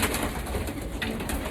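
Pigeons in a crowded breeding loft, their soft coos and rustling running steadily through a dense, continuous wash of low, close-up bird sound.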